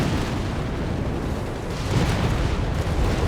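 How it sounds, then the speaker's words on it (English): Explosions rumble through a large Company of Heroes 3 battle with heavy shelling, forming a continuous roar of booms and blasts that swells slightly louder near the end, with no talk. "Massive explosions."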